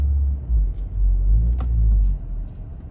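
A turbocharged Ford Escape engine rumbles low and steady, with a short rise as it revs and engages gear; nearby and continuous, no talking.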